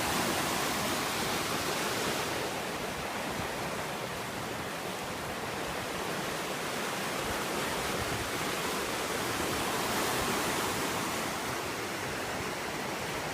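A river rushes in a steady broadband roar of flowing water, dense and constant with no break across the whole stretch, fairly close and with no voices over it.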